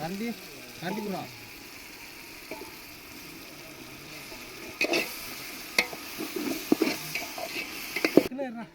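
Biryani masala mixed with curd gets stirred in a pot, soft scraping and clinking strokes that grow sharper and more frequent toward the end, with a few brief voices early on.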